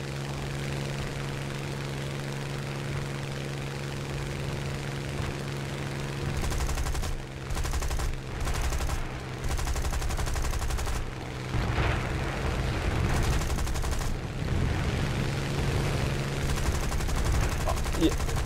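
Fighter plane machine guns fire in bursts during a Battle of Britain dogfight in War Thunder, loud rattling volleys over a constant engine drone that continues between bursts.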